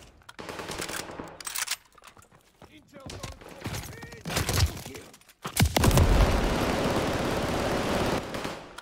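In Call of Duty: Vanguard, bursts of gunfire rattle amid scattered shots, then a loud grenade blast at mid-clip gives way to a sustained roaring rumble of debris and fire, with faint voices earlier.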